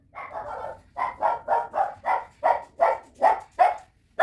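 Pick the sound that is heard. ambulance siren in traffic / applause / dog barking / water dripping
dog barking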